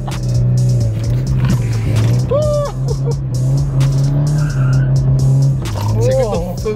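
A modified car leaving a car meet drifts in circles, its engine droning loudly while tires squeal in short bursts, with excited people talking over it nearby.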